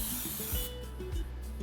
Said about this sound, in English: generously with your cooking spray